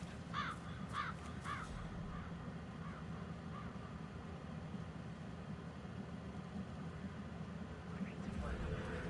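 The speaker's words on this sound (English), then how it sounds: "I'll never get rid of those stupid birds." Crows in the Hitman 3 video game caw repeatedly in a quick burst at the start, then fall quieter under a low engine-like hum, with one more caw near the end.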